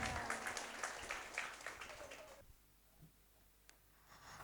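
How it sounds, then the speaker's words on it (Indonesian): Applause at a graduation-style ceremony for a women's Quran memorization quarantine program, heard as dense clapping that lasts about two and a half seconds and then falls off to a quiet room. "Berikan tepuk tangan."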